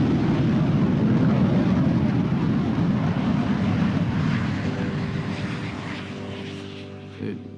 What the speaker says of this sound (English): saw planes flying over, like this guy.